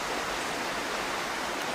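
Steady, dense rush of falling water from a waterfall in Costa Rica, heard close up as an unbroken wash of noise with no voices.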